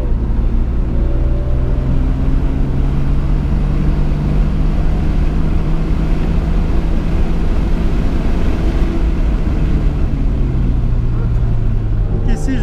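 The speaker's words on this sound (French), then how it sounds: "c'est en roulant vraiment la GTA sur circuit" A GTA car driven hard on a race circuit, its engine a loud continuous roar with shifting pitch that holds for the whole stretch, close and unbroken.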